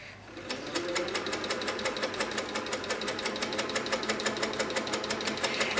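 An HQ Sweet Sixteen quilting machine stitching along a ruler runs at a steady, fast mechanical rhythm, its needle tapping evenly and continuously, close and fairly quiet, with no talking.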